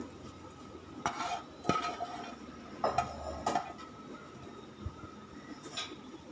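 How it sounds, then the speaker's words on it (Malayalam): Half a kilo of washed clam meat goes into a pan and is stirred, giving several sharp metallic scrapes and clinks of a spoon against the pan over a faint, quiet sizzle, with no talking. "അതിലേക്ക് കഴുകിയെടുത്തിരിക്കുന്ന 1/2 കിലോ കക്കായിറച്ചി നമ്മൾ ഇട്ട് കൊടുക്കുകയാണ്."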